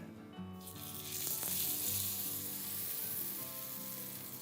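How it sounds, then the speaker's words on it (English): Salmon sears in a hot cast iron pan in a Homer, Alaska eatery, a loud, continuous hissing sizzle that swells as the fish hits the metal and then holds steady. "I love that sizzle. Such a nice sound."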